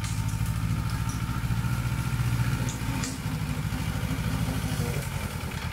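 A riding lawn mower engine runs steadily nearby, a loud, continuous mid-pitched chugging drone with a slight throttle rise early on and no talk over it.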